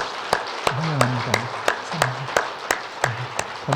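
A church congregation at a Sunday worship service applauds in welcome, a steady wash of clapping from many hands in a hall, with a voice speaking over it.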